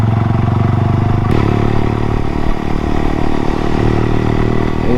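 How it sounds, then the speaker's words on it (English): A Honda Vision moped engine while riding, giving a steady buzzing drone with a rattly mechanical edge and a shift in pitch early on, loud and close. "He's enjoying that little moped."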